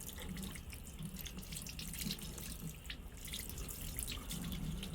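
Tap water runs steadily into a tight sink during hand washing, a continuous soft splashing hiss with small drips, moderately quiet and with no talking.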